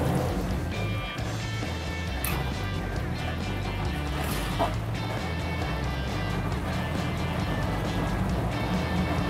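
Second engine of a real M24 Chaffee light tank starting up and settling into a steady, loud, rumbling idle, with a couple of sharp clanks early on and no talk.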